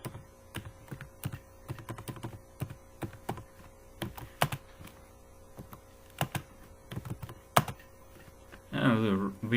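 Steady, close clatter of computer keystrokes as C++ code is typed, irregular taps with brief pauses and a louder thunk or two, ending in a short burst of voice.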